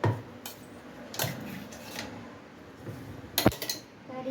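Cabbage manchurian batter being mixed in a bowl, with a few sharp spoon-on-bowl clinks scattered over soft, quiet stirring nearby.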